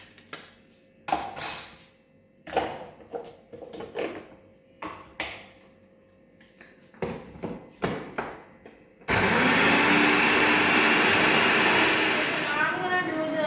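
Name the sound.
blender grinding mixed nuts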